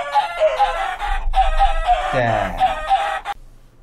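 Video game chickens cluck loudly and repeatedly in close, overlapping bursts, with a brief spoken word and a sudden cutoff at the end.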